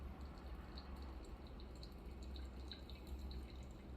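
Water trickles slowly in a circular pour over freshly roasted Guatemalan coffee grounds for pour-over brewing. Faint, soft dripping and splashing sits under low background hum, with no speech.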